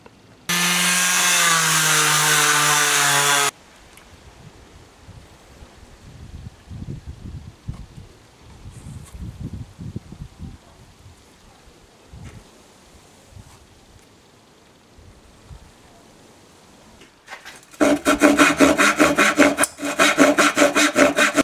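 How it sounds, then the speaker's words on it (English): A saw cuts wood for a new butt pad on a homemade air shotgun, heard as a loud burst of steady sawing, then quieter scattered rubbing and handling noises, then another loud stretch of rapid rhythmic sawing strokes. "So I've cut it and roughly shaped it"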